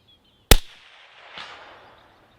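A single sharp report from a CMMG Resolute AR-15 rifle chambered in 350 Legend fired on an outdoor range, loud and close, followed about a second later by a fainter distant impact or echo.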